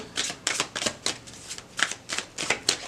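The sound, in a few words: tarot cards being shuffled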